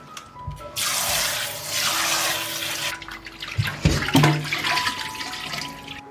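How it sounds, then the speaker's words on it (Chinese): Running water from a tap splashes loudly and steadily over pig intestines being hand-washed with starch and salt in a sink, with squelching and handling noises in the second half. "再加入淀粉，还有盐，里里外外给它抓洗几遍。"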